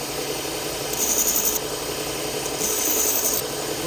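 Two deliberate strokes of a knife blade across a sharpening stone refine the burr, each a gritty, hissing scrape lasting under a second, separated by a short pause with a steady background hum and no talking.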